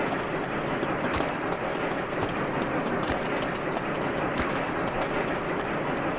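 Game-world train rolling out in the transport sim Sweet Transit, a steady broadband rumble with rhythmic clickety-clack rail joints and a few sharp clanks, continuous and fairly loud with no talking.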